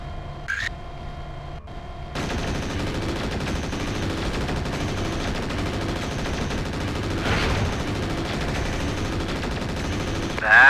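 Continuous rattling weapons fire from a BattleMech in MechWarrior 4: Vengeance as comm towers are destroyed, a dense loud barrage lasting several seconds after a brief quieter start.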